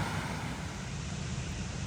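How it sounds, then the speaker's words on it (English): Steady broadband rushing of an outdoor waterfall near sliding rock, a continuous even wash of falling water heard alone with no voices, moderately loud and constant throughout. "Love the waterfall."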